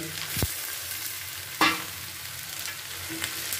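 Chopped tomatoes stir-fry with ivy gourd in a pan: a continuous sizzle broken by two sharp, close scrapes of a stirring utensil.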